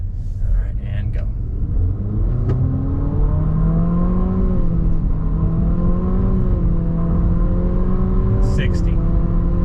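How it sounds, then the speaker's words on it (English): A 2020 Infiniti QX50 Edition 30 accelerates at full throttle, its engine note climbing steadily in pitch with a loud, sustained whirring rumble from inside the cabin, and a driver speaks briefly over it. "see if we can give you an idea on top end acceleration here"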